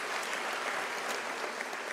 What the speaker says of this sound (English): Let us welcome them with a warm round of applause